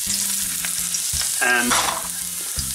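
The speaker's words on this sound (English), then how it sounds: "Going to get in my garlic to start sweetening the oil." Garlic sizzles in hot oil in a pan, a close, steady crackling fry with brief stirring scrapes, and one short spoken word.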